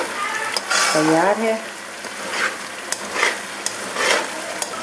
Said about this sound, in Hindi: ये देखें जी इसकी भुनाई हो रही है